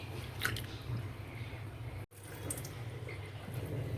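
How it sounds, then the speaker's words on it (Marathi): Wet squishing and sloshing sounds as sprouted moth beans are stirred and rinsed in water, with faint drips over a low steady hum. "एक पाण्याने धुणार आहे मी ह्याला"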